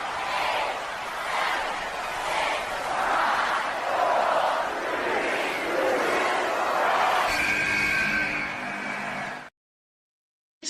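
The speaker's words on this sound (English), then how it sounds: "The crowd booed heavily as Stevens was making his way into this matchup" A large wrestling arena crowd roars in steady, swelling waves as a wrestler makes his entrance, loud and sustained with no distinct talking, ending abruptly in silence.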